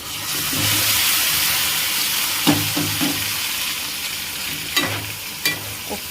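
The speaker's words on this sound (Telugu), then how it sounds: "ఇలా ఆనియన్స్ కలర్ చేంజ్ అయ్యాక మనం ముందుగా ఉడికించి పెట్టుకున్న చికెన్ని అందులో వేసేయాలి" Boiled chicken pieces tipped into a pan of browned onions sizzle steadily, with a few sharp clanks of a spoon stirring against the pan; no talking.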